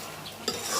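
Duck meat is stirred in a pan over a wood fire, a quiet soft sizzle with a single scrape of the spoon partway through, brief and close.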